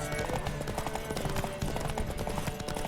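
Horse hooves clatter steadily amid a dense, busy soundscape of music and effects from The Witcher 3, with no clear gaps between the strikes.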